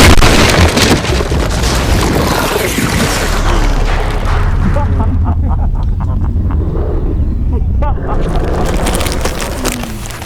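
Diwali firecrackers go off nearby in a loud, sustained roar of bursts and rumbling booms, easing briefly midway before swelling again, with voices talking underneath.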